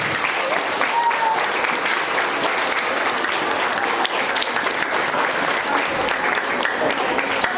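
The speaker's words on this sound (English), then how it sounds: "Let's have a big round of applause for these students with perfect attendance." Audience applauding students with perfect attendance at a school quarter awards ceremony, dense sustained clapping from a room of people, loud and even throughout.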